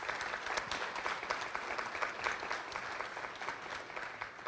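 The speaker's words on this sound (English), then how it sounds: "So I'd like to give them a special round of applause." A press-conference audience for the 2023 ASICS road race applauds volunteers of the year with a continuous, even crackle of many hands at moderate volume that stays steady throughout.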